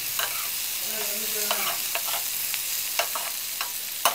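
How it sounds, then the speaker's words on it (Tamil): Tomato masala with curry leaves and coriander sautéing for potato poori masala: a quiet, steady sizzle broken by regular light scrapes and taps of a spoon stirring the pan, with no talking. "நல்லா மிக்ஸ் பண்ணி வதக்குறோம்."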